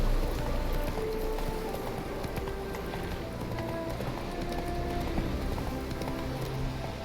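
Horse hooves galloping steadily in The Witcher 3 video game, a continuous clip-clop rhythm running the whole time under game music and ambience.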